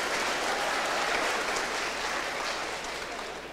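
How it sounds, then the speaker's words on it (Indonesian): Graduates and guests at a Universitas Riau graduation ceremony clap in a thick, continuous roar of applause that stays loud throughout and eases off slightly near the end. "Ayo tepuk tangan."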